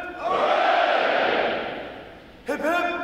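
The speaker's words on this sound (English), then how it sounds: "The adjutant will lead all graduating divisions in three cheers for this morning's award winners." Graduating Navy recruits roar a massed cheer for award winners at a training command graduation. A long, loud group shout swells and fades, then a second burst of voices starts sharply near the end.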